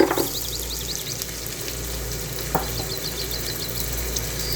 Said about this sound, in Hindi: अब इसमें हम मटन डालेंगे